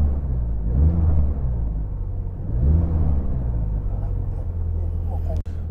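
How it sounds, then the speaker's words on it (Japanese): A Suzuki Jimny JB64 small SUV engine starts and rumbles close by, deep and steady, rising twice in brief revs before settling into a low idle. "おお、エンジンの音がいいですね。"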